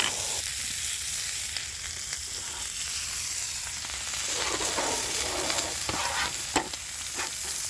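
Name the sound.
steak sizzling in a cast-iron skillet outdoors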